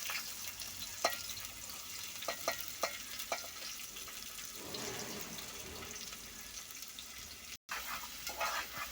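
Onions and green chillies frying in hot oil for a prawn curry: a steady, close sizzle with a few sharp clinks and scrapes from stirring, and no voices.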